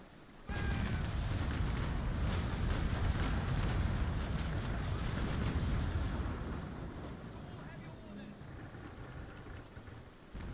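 A warship fires a cannon broadside in the video game Naval Action, a sudden heavy volley erupting into a long, booming low roar that slowly fades into wind and water noise.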